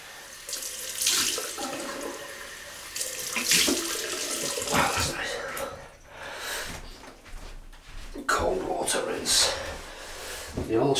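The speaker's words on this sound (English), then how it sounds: "Excellent, right, cold water rinse." Cold water runs from a tap in several bursts, splashing into a sink as a rinse after a shave, with people talking over it.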